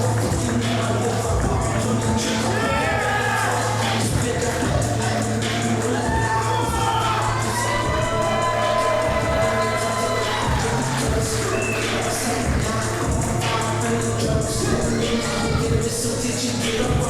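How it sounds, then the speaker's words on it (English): A live pro wrestling crowd at an event in Corona, California jeering a wrestler, a dense, loud, continuous wall of shouting and yelling voices with higher cries rising through it, filling the hall throughout. "And this crowd does not like Angel Pureheart"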